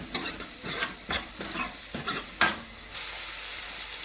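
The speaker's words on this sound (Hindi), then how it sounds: "तो प्याज को मैं अच्छे से इसमें भून लूंगी।" Onions frying in a pan while being stirred with a utensil, a steady sizzle under repeated scraping strokes, close and moderately quiet, the stirring stopping near the end while the frying continues.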